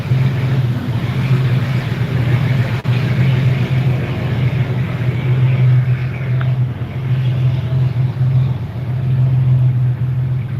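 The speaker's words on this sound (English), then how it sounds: "you can hear the engine reflecting back at you" A steady low engine drone from a Chris Craft boat motor echoing under a bridge, loud and continuous with a hollow, reverberant quality, rumbling without pause throughout.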